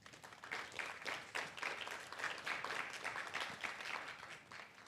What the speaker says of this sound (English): So a big round of applause to all of them, please.